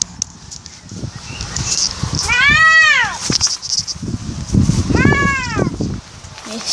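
A man imitates a cat with drawn-out, rising-and-falling meow cries, two clear ones a couple of seconds apart, loud and close over background voices and rustling.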